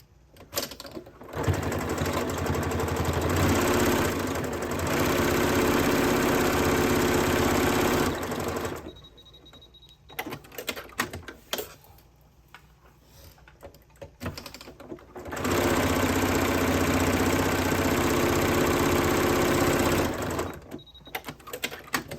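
Sewing machine running long continuous stitching bursts on fabric scrap coasters, two steady loud runs separated by a pause with clicks and handling noise.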